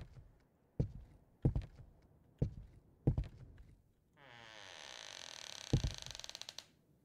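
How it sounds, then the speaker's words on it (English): Four heavy thuds, then a long creaking door swinging open in a horror video game, loud and close with a ratcheting, grinding texture, one more thud partway through. "If any door you open sounds like that, you run away."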